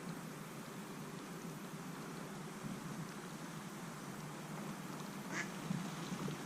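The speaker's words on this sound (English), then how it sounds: "the ducks are acting crazy" Ducks quack amid a steady wash of rain-like background noise by the water while fishing, with one brief, clearer call standing out near the end; no one speaks.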